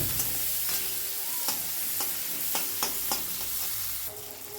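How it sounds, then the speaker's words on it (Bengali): Chopped onion, slit green chilli and nigella seeds fry in oil in a pan with a steady close sizzle, broken by several sharp scraping clicks of a spatula stirring, before the sizzle drops quieter at the end. "দিয়ে একটু ভাজা ভাজা মতো করে নিচ্ছি।"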